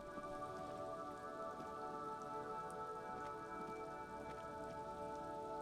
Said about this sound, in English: This is nice, it's raining.